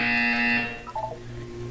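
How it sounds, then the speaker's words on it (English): A loud electronic buzzer sounds in the video game Portal 2, one sustained tone for about half a second before fading into low ambient hum. "You will hear a buzzer."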